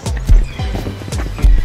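Horse hooves clip-clop in the video game Rust, a steady run of sharp, close thuds with heavier strikes recurring at intervals, loud and alone.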